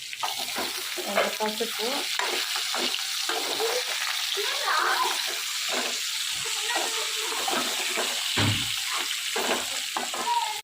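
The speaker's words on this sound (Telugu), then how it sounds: "ఇందులో మనము ముందుగా ఉడకబెట్టుకున్న అరటికాయ వేసి వేయించుకోవాలి" Boiled raw banana pieces fry and sizzle steadily in a pan as a spoon stirs them, with scraping knocks throughout, close and fairly loud, and a brief spoken word partway.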